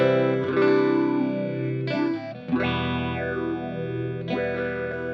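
Electric guitar through a Wombtone modulation pedal with its rate swept from very slow to slow, sustained notes with swirling, sweeping tonal movement, loud and close, no talking.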